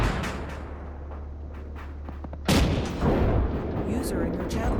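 Distant artillery and gunfire in the Arma 3 desert battle, a low rumbling barrage that jumps to heavier, closer blasts midway, with muffled voices talking over it.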